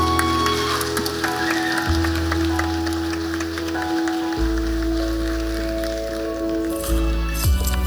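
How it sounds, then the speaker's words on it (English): Applause from a graduation ceremony crowd at the Guyana Online Academy of Learning, a dense steady patter of many hands clapping continuously, with music or a sustained tone running underneath throughout. "Let's give a round of applause for the graduates"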